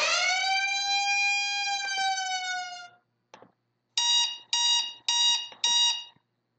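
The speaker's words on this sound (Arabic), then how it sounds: "يمكن أيضا التحكم في صوت هذا الألارم أو التنبيه" A loud electronic timer app alarm tone rings steadily for a few seconds, then repeats as four short, evenly spaced beeps after a brief pause.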